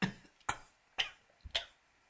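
Several short, sharp coughs spaced about half a second apart, close and fairly quiet, with no talking in between.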